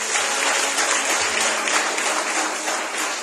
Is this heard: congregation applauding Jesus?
yes